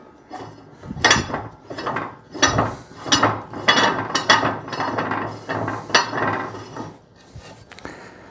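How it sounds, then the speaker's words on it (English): Screwing down the tensioner screw on top of an antique mangle, holding a spring in place; loud, close bursts of ratcheting, grinding metal turns repeat irregularly for several seconds with no voices. "this tensioner screw goes in the top. And if we screw that down enough, it'll hold that spring in place"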